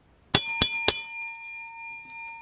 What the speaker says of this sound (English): Yeah, another bell.